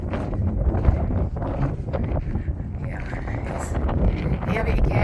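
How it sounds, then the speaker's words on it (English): Strong wind buffets the microphone outdoors among the ruins of Chan Chan near Trujillo, Peru, a steady loud low-frequency rumble that continues for the whole stretch with no clear speech. "it's very windy right now"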